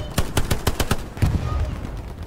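An MP40 submachine gun fires in a video game: a tight burst of about seven sharp, evenly spaced shots, then a shorter second burst after a pause, loud and close against a quiet background.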